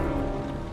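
Steady rain falling in the Heavy Rain video game, a dense continuous hiss of drops on surfaces, fairly loud and even throughout with no voices.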